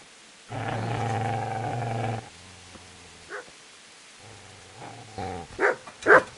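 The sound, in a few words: dog growling and barking in Kingdom Come: Deliverance video game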